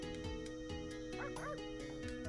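A dog barks and yips a few times in the video game Breath of Fire 3, the short game-sound barks sitting over steady background music.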